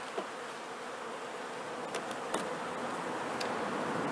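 Honey bees buzzing around an opened hive colony packed with pollen and honey, a dense steady drone close by with a few brief clicks, no voices.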